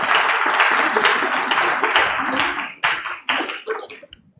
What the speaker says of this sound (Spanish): Le damos muchas gracias a Cristian con un fuerte aplauso.